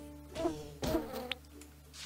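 Bees in the video game Mini World give off a low insect buzz with a couple of swelling pulses and a small click, fairly quiet and without speech.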